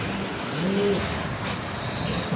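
Large fancy pigeons, Beauty Coma breed, give a soft low coo amid a noisy loft, the call brief and close over a steady background din.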